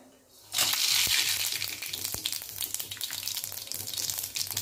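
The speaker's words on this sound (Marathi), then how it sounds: "तेल इथे छान गरम झालेलं आहे, त्याच्यामध्ये आपल्याला जिरे मोहरी टाकून घ्यायचं आहे।" Cumin and mustard seeds hit hot oil for a spiced dal tempering, bursting into a loud, close sizzle with rapid popping and spluttering crackles that settle to a steady fry.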